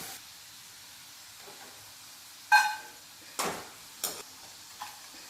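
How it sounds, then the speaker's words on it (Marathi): Peanuts fry in hot oil in a quiet kitchen, the pan giving short separate bursts of sizzle and hiss, each fading quickly, with near silence between them. "आता यामध्ये एवढे शेंगदाणे सुद्धा तळून घेते।"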